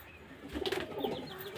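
Pigeons on sale at a home in Beldanga, Murshidabad, uneasy in a new place, give a few short, soft coos close by, with light rustling and a faint flutter in the background.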